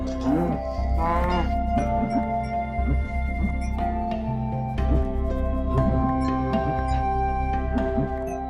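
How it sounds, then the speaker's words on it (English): Cows mooing in Minecraft: several drawn-out, tonal moos repeating over a steady layer of music or ambient game sound, fairly loud and close. "Those are still cows."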